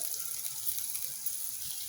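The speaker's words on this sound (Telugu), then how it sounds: "కొంచెం వాటర్ పోస్తున్నాం దీనిలో." Water pouring into a pan of rasam: a short, steady gush of running liquid with even splashing throughout, fairly close and moderately loud, no voices.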